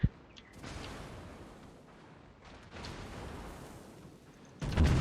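The battleship Missouri fires in World of Warships, sending out deep, rumbling cannon blasts, a few separated booms and a heavy, loud salvo at the end, over a low, steady background rumble.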